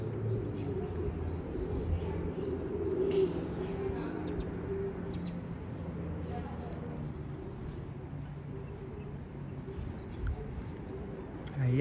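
A pigeon gives soft, low cooing calls through steady outdoor background noise, with faint chirps scattered across a long, even stretch.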